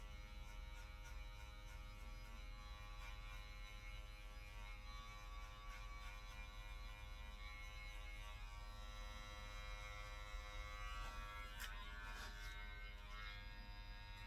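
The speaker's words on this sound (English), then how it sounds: "Just take this clipper back up in there and get some of that out of there." An electric hair clipper trimming gives off a steady, close mechanical buzz that holds a constant pitch throughout, with slight changes in tone as it moves and no voices.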